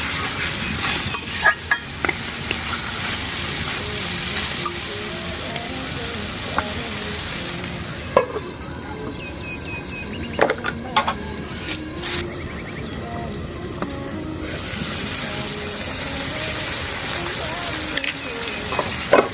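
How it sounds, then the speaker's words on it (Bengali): Country chicken pieces with skin and spices being stirred and fried in a pan, a steady sizzle broken by scraping and clinks of the spatula throughout, with a faint voice now and then. "নেড়েচেড়ে মিশিয়ে নিয়ে আবার আমরা কষিয়ে নিব প্রায়"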